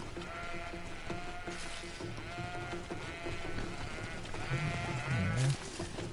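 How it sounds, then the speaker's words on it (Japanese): Goats bleat repeatedly in the fantasy video game GreedFall, several wavering calls rising over a steady ambient background, one louder bleat near the end. "ヤギが多いな。"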